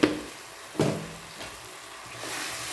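Spiced onions dropped into a pan of turmeric-coated meat for a curry, starting with sharp splashy bursts at the start and near one second, then settling into a softer, uneven sizzle.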